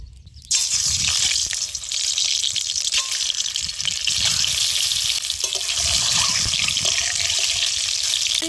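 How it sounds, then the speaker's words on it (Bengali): Eggs fry lightly in hot oil in a pan, a steady, bright hiss that starts abruptly and runs close and unbroken to the end. "আমি একদম হালকা করে ডিমটা ভেজে নেব"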